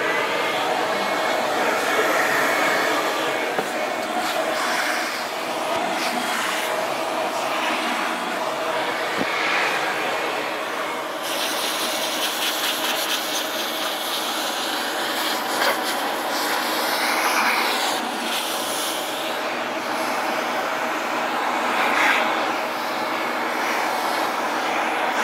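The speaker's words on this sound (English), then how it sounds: "So I'm going to grab my vacuum here, and I'm going to use our medium head to get some of this contamination." A vacuum cleaner fitted with a medium head works over a black car's interior, a loud continuous whine and rush of air that shifts in pitch as the nozzle moves.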